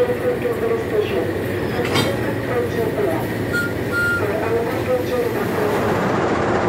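Argo Cirebon passenger train hauled by locomotive CC20691, a continuous rumbling of wheels and carriage noise at steady moderate level, with a few faint tonal beeps and a person speaking over it.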